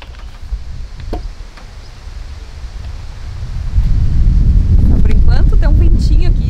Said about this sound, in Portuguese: Tem um ventinho aqui. O vento tá levando tudo pro lado.